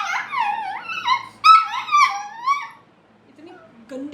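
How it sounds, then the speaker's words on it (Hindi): A pet dog indoors gives a run of high whining, whimpering yelps in close succession, loud and near, fading out toward the end with a few faint squeaks. "ये घर पे अंदर वाले रूम में बैठ के भौंक रहा है"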